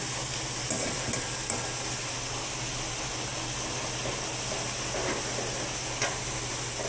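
Potatoes frying in a pan, some already browning, give a steady soft sizzle and hiss with a few faint scrapes and taps early on, heard close with no voices.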